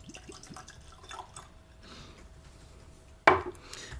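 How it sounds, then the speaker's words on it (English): Pumpkin eau-de-vie trickles and drips into tasting glasses, with soft liquid sounds and a sharp glassy clink near the end. "let me finish pouring the rest of these"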